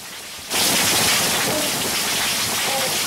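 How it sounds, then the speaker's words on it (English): Dense crackling snaps recorded by an underwater hydrophone fill the recording continuously after a sudden start, thousands per minute, like heavy rain hissing underwater. "thousands of snaps arising at the hydrophone every minute."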